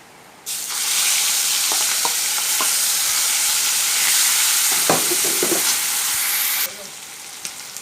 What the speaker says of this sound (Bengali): দিয়ে আমরা চিংড়ি মাছটা ভেজে নেব